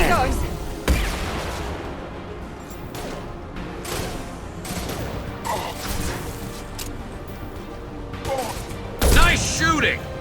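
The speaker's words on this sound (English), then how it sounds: "Nice shooting!" Gunfire in the video game Mass Effect 2, with dense bursts of shots and mechanical clatter running throughout, loud sharp cracks near the start and again near the end, under game speech.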